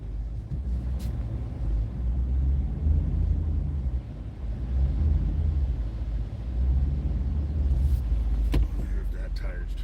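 A 4x4 vehicle's engine rumbles steadily on the beach while the four-wheel drive fails to engage, a low continuous drone with a few brief clicks and knocks near the end.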